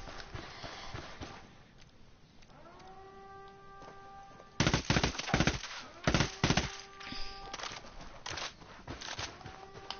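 Gunfire in a Ghost Recon game, starting as quiet background shots, then a rising siren-like tone, then a cluster of loud, sharp shots in quick succession.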